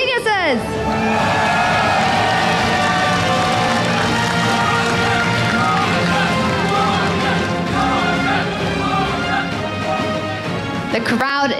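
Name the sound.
crowd cheering at League of Legends esports event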